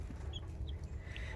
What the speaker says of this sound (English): So I have 4 hens.